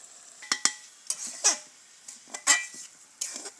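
Polao rice being fried with spices in a pot on a clay stove, a metal spoon scraping and clinking against the pot in irregular strokes over a faint sizzle, close and alone.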